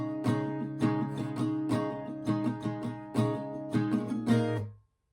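Acoustic guitar strummed alone in the chorus pattern of a song, rhythmic chord strokes with short muted gaps after down strums, close and steady, ending on a ringing chord that cuts off.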